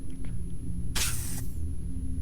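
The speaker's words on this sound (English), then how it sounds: "Just gonna spray shit for the hell of it." A single hiss of spray lasting about half a second, loud and close against a steady low hum, from a spray can in the VR game The Exorcist: Legion.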